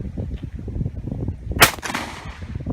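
A single sharp gunshot cracks out at target practice, loud and close, ringing briefly after a stretch of low rumbling background.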